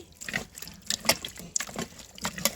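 Water splashes and trickles over dishes being washed, with intermittent pours and drips coming in short close bursts, and no talking.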